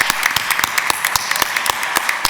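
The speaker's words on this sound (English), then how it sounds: "Please applaud them, but also don't forget to applaud the panel as well." An audience applauds a panel at a humanitarian forum session: loud, close clapping with distinct sharp claps punctuating a dense wash, continuous throughout with no voices.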